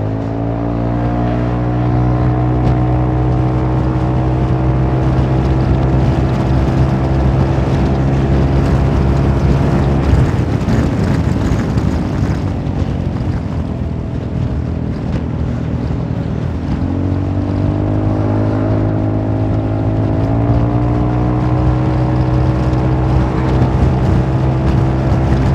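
A Honda Forza 350 scooter fitted with 13-gram CVT rollers hums along under light acceleration, its engine drone steady and close, dipping and rising in pitch with throttle changes amid wind rush, with no talk.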